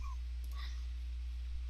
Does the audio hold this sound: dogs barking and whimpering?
yes